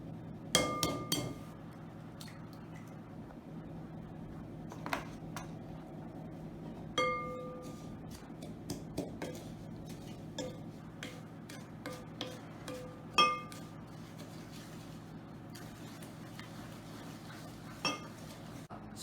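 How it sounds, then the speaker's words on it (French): Cane sugar, eggs and olive oil being mixed for a cake batter, with scattered clinks and taps of a utensil against a glass bowl, irregular and close, over a quiet kitchen background. "un verre et demi de sucre de canne, 3 œufs, un verre et demi d'huile d'olive et on va venir mélanger le tout"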